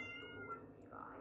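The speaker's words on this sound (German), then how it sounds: "das war die Katze." A cat gives a short, faint meow in a quiet room, a brief plaintive cry heard on its own.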